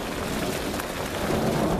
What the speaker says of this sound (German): Regen ist auch wieder da.